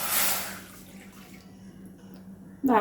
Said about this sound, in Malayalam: ഇനി ഒരു പാത്രം അടുപ്പയിൽ വെച്ചിട്ട് ഇതാ 1 കപ്പ് വെള്ളം ഒഴിക്കാം.